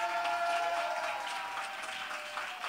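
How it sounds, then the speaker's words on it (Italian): Studio audience applause on an Italian TV music game show, a dense, even wash of clapping held at a steady moderate level throughout, with a faint tonal hum underneath. "Via con l'applauso."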